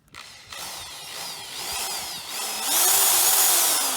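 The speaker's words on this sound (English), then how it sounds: "Sometimes your drill bit walks a little bit" A power drill bores through the metal body of a 2021 Sprinter van while running boards are fitted; a steady whine rises in pitch and grows louder toward the end as the bit presses through.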